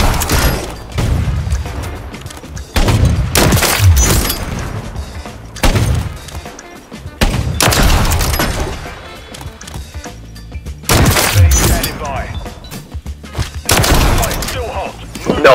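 Gunfire in Call of Duty MW3, sniper play with a Victus XMR, loud bursts of shots and impacts coming in clusters separated by brief lulls, with players talking over the action.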